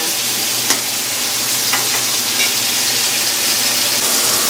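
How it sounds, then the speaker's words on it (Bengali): Pointed gourd being stirred with ground ginger, green chilli, onion and garlic in a frying pan, a steady broadband sizzle of frying with a few soft scraping stirs over about four seconds. "এখন আমি মশলা দিয়ে নাড়াচাড়া।"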